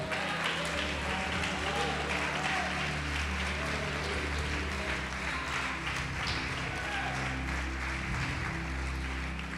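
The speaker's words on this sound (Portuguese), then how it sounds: "Pode aplaudir e glorificar, irmão." Church congregation applauding during a sermon, a steady dense wash of clapping lasting throughout, with voices and a sustained tonal backing heard over it.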